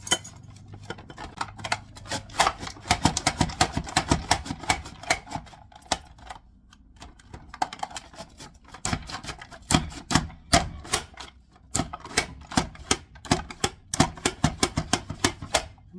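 Carrots fed into a food processor's slicing blade make a rapid, clattering chatter, loud and close, in dense bursts with brief pauses, no voices over it.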